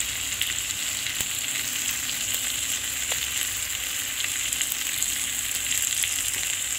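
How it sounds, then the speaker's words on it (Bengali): Masala with ginger paste sizzles steadily in hot oil for a tangra fish curry, a dense, even frying hiss that runs unbroken with faint stirring scrapes. "দিয়ে এটাকে মশলাটাকে ভালো করে কষিয়ে নিতে হবে।"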